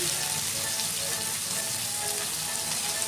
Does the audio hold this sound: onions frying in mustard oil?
yes